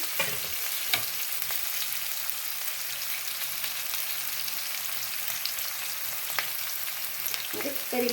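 Onions hiss and sizzle in hot oil in a pan while mango rice is made, a steady bright frying sound with a few clinks and scrapes of stirring and no talking.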